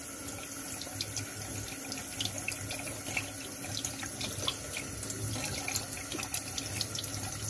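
Tap water runs steadily over a potato being washed under the faucet, a continuous close splashing stream with small bursts as the potato is turned.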